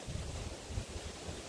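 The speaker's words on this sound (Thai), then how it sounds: "ลมมันแรงจ้ะ" Strong wind buffets the microphone outdoors in a low, rumbling roar with uneven gusts, constant and fairly loud throughout, no voices.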